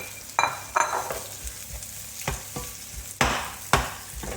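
Onions and egg are stirred together in a frying pan for egg fried rice, with sharp scraping knocks of the utensil landing irregularly over a soft, constant sizzle.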